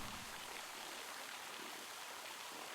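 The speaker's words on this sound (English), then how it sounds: "Sleep to the sound of a sewer waterfall on the outskirts of a dystopian city" Faint, steady rushing water from a sewer waterfall on the outskirts of a dystopian city in the video game REPLACED, a continuous hiss-like wash with no voices.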